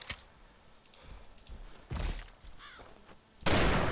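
An AK rifle fires in Arma 2 DayZ, with a few sharp, separate reports spread over a few seconds; the last is the loudest, set against quiet background noise.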